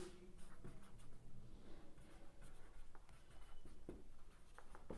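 Pen or marker writing on a board or paper during a Class 7 maths lesson on proportion, a faint continuous scratching with short strokes and taps over quiet room noise, no talk.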